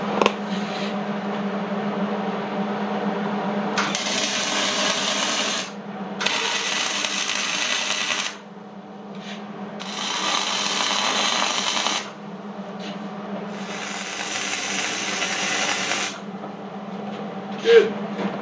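Tack welding of reinforcement plates on a 3 point hitch receiver, a steady buzzing crackle in several sustained bursts of a few seconds each with short pauses between, close and fairly loud, no talk.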